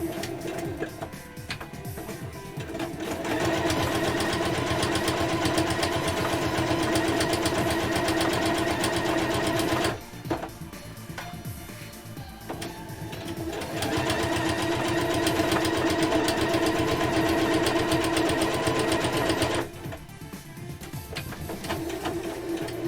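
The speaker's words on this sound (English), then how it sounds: "This is Fred, my friendly sewing machine. And he's very trusty sometimes, but he whines a lot" A sewing machine runs close by, loud enough to whine, in two long steady bursts of rapid mechanical stitching hum, each stopping abruptly with quieter pauses in between and no talk.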